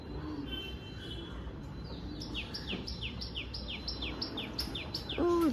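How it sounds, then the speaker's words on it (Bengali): Repeated high, thin descending chirps from a tailorbird in a tree, calling in a steady series over faint background murmur. "এসব টুনটুনি পাখির আওয়াজ"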